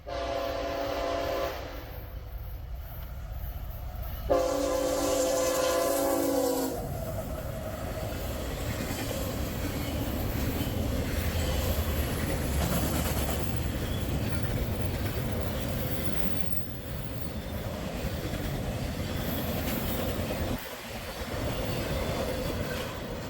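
A freight or passenger train in Rittman, Ohio rumbles past close by, a long continuous roar of rolling cars with a horn blast near the start, steady throughout.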